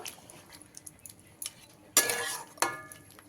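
Chicken curry being stirred in a pan after hot water is added, heard as two short, loud scraping splashes near the end following quieter faint clinks, with no voices.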